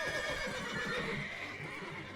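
A horse whinnies in the video game The Witcher 3: Wild Hunt, a drawn-out neigh set against a steady wash of background game noise, with no one talking.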